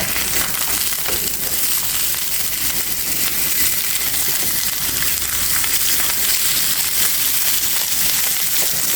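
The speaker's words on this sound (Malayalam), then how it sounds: "ചിക്കൻ ബർഗർ നമുക്ക് ഇതിലോട്ട് ഒന്ന് വെച്ചൊന്ന് ഫ്രൈ ആക്കി എടുക്കാം" A chicken burger patty fries in a pan, giving a loud, dense, unbroken sizzle heard up close for the whole stretch with no voices over it.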